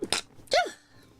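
A single sharp sneeze up close, with a quick intake followed by a burst and a voiced tail, then quiet.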